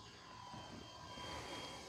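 Twin-motor E-flite EC-1500 V2 radio-controlled plane in flight, a faint, steady buzzing drone heard from a distance against outdoor background noise.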